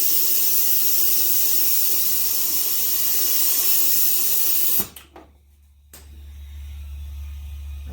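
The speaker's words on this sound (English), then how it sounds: "I can hear a little air leaking there." Air hisses steadily from the lid of a homemade oil vacuum extractor bucket, a broad loud rush that cuts off abruptly partway through, then gives way to a low hum and faint residual hiss.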